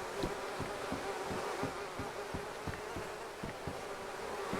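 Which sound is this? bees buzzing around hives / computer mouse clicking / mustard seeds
bees buzzing around hives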